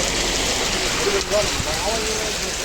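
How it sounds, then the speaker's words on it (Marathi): Steady, dense hiss of heavy monsoon rain pouring down in Boisar, loud and continuous throughout, with faint background sounds underneath. "फुल धमाल पाऊस आलाय."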